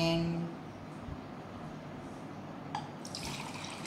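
Water pours and trickles into a pot while pandan rice is cooked with coconut milk and pandan water, a steady faint liquid flow with a few drips, close by and without talk.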